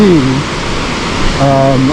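A broad, steady roar from a waterfall near Pitt Creek on the Pacific Crest Trail, loud and continuous, with brief talking heard over it at the start and end.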